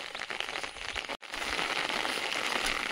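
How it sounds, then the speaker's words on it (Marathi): Steady rain falling outdoors during the Ganesh festival season in Konkan, a continuous dense hiss with a brief dropout partway through, loud and close without any voices. "अरे पाऊस पण सुरू झाला आहे"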